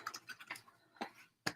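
Tarot cards being shuffled give quick, soft papery ticks and flutters in an uneven rhythm, close by, ending with a sharper snap.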